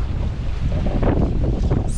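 Light wind rushes over the microphone aboard a sailboat running downwind, a steady blustery roar with water washing against the hull beneath it and no talk.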